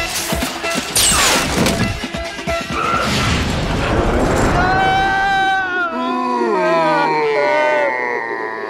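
Loud, chaotic bursts of rapid gunfire and crashing impacts in a ghostly duel scene from the 2001 comedy film Scary Movie 2, dense and overlapping, before the din thins into sustained tonal sound.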